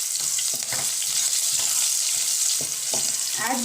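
Green chillies frying in hot oil with cumin and hing in a kadai, a steady close sizzle throughout with a few light stirring knocks.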